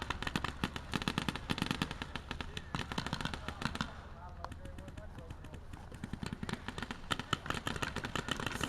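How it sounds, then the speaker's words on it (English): Paintball guns firing during target practice, rapid irregular pops and bursts from nearby, briefly thinning then resuming, with voices talking over them. "Looks like they're doing some target practice or something."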